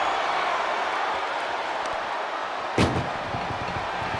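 An ambulance door slams shut once in a WWE 2K24 ambulance match, a single loud bang cutting through a steady roar of the arena crowd.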